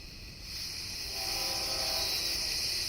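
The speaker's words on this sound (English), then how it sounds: "The train, the freight. That's a freight train." A freight train passing outside at night, a steady loud rumble with a sustained hissing horn-like tone swelling over three seconds.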